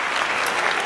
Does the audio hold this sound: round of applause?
yes